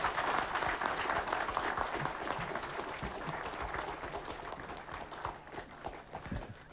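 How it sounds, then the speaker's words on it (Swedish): A Swedish TV bingo show's studio audience bursts into sustained applause for a prize winner, a dense continuous clapping wash that gradually eases off over several seconds. "Stora applåder och stort grattis."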